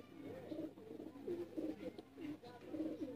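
Teddy pigeons coo in a bird-selling setting in Sialkot, a repeated rhythm of low, soft, rolling coos in bursts with short gaps, fairly quiet and close.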